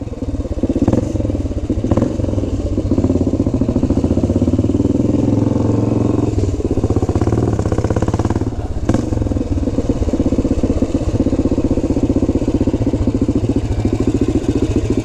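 A 1970 BSA Victor Special B44VS 441 motorcycle engine running close and loud, with a steady, throbbing rumble and mechanical clatter that holds without a break and swells slightly at times.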